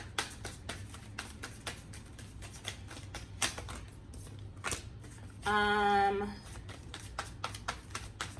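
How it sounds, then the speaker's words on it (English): Rapid riffle of tarot cards being shuffled, a brief dense flutter standing out amid scattered light taps and clicks. "I'll do one more shuffle."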